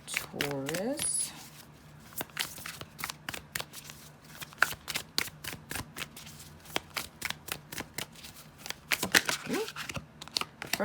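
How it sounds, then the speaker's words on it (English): Tarot cards being shuffled by hand, a quick run of crisp riffling snaps and taps close up, with a brief voice at the start and more talking near the end. "One more shuffle"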